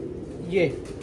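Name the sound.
record-holding racing pigeon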